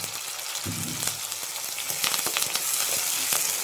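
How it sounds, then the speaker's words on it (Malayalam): Crushed shallots and neem leaves sizzle and crackle in hot oil as they are stirred in a pan for a meat curry, a steady close frying hiss with scattered pops and scrapes, no voices. "ഇത്രയും ഇട്ട് ഒന്ന് ഇളക്കുക."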